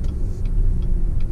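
A 2019 Chevrolet Silverado 1500 High Country pickup with a 5.3-liter V8 engine idles with a smooth, steady low rumble in a brief burst, with no voices.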